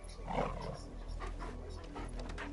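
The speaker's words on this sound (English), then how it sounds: "Dog." A dog in Final Fantasy XVI pants in quick, breathy bursts close by, with a low ambient hum running steadily underneath.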